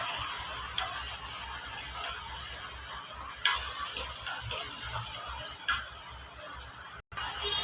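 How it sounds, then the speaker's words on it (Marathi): Urad and chana dal dry roasting in a pan, a steady gritty rustle of lentils stirred and shifting, with occasional scrapes, close and fairly quiet. "बघा डाळ आपले भाजून झाले"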